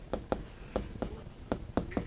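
Chalk or marker strokes on a classroom board while writing out an algebraic identity, several short scratchy bursts in an uneven rhythm, close and moderately loud with no voice over them.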